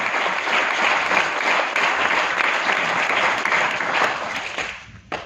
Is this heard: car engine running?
no